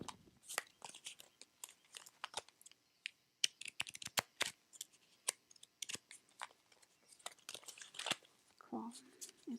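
Tarot cards are shuffled close up in soft, crisp riffles and slides, a quiet ASMR-style patter of irregular card snaps and rustles with brief pauses between bursts.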